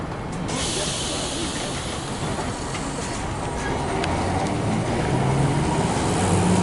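Old W8-class tram 1010 in MMTB ivory, green and yellow passes near Docklands Park, Melbourne, heard as a broad rumbling, hissing rush that grows slightly louder, with distant children's voices mixed in.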